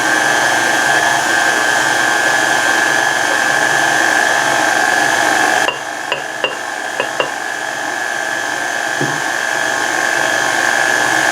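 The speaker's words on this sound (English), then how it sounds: "if you add too much flour in there and you start your mixer, believe me, you'll have a mess in your kitchen" An electric hand mixer whirs steadily as gluten-free flour is worked into pumpkin cake batter, a continuous close motor drone that dips briefly near the middle with a few light clicks.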